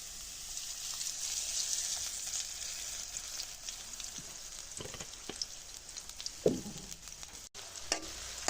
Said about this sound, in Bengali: পেঁয়াজগুলো সুন্দর করে আমি ভেজে নেব তেলের মধ্যে